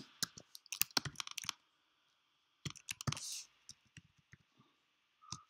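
Computer keyboard keys clicking as code is typed, in quick close bursts of taps separated by short pauses and then a few scattered keystrokes.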